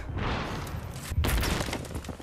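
A short explosion in a first-person shooter game bursts out with a dull thump and a crackling, shattering tail, fairly quiet overall.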